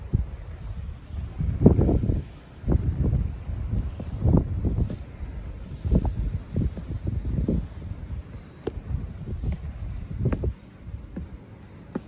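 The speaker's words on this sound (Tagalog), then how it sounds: "Malamig yung simoy ng hangin." A cold wind blows through a forest near a cliff on Bornholm, Denmark, buffeting the microphone in low, irregular rumbling gusts that rise and fall throughout.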